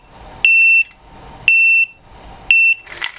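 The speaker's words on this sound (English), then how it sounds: "It actually has an alarm if water does get in." Water leak alarm on a Seafrog underwater camera housing for a Fuji XT30 emits three loud, piercing electronic beeps, each lasting about a third of a second and evenly spaced about a second apart, close by.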